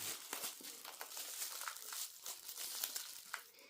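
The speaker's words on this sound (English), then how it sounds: "Looks like it was inside of another plastic bag. And let's see where we can unwrap it." Plastic bag crinkles and rustles continuously as a toy train package from a wooden railway or TOMY line is unwrapped up close, with dense crackling and small tearing bursts.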